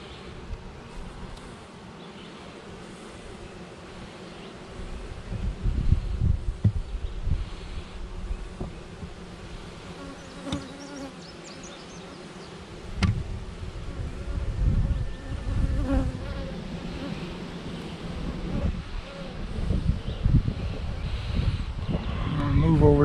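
Honeybees buzz around an open hive during a garden check at a house, a continuous close drone rising and falling as bees pass the microphone, with light wind and rustling and occasional handling noises.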